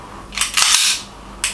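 A custom Glock 34 airsoft pistol fires a single sharp, loud crack with a mechanical clack of the slide, followed by a lighter click; close up, with no talking.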